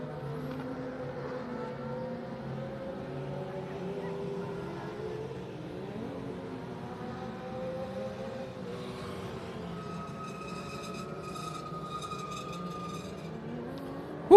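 Race car engines drone steadily around a dirt track at Texana Raceway Park, a sustained layered roar with shifting pitch as cars circle, then a higher whine near the end, with no talk over it.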